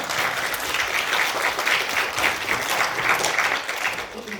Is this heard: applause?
yes